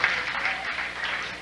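Steady crowd applause from bowling fans at a 2001 PBA Johnny Petraglia Open event in New Jersey, a dense continuous wash of clapping heard at a distance with no break.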